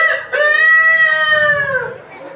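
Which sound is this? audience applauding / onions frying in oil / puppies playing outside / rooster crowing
rooster crowing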